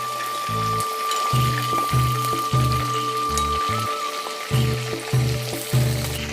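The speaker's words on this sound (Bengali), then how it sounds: "আমি উল্টে পাল্টে খুব ভালো করে ভেজে নেব।" Close, continuous sizzling of chicken pieces frying in oil as they are turned, with soft stirring scrapes and no talking over it.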